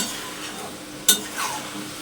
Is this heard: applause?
no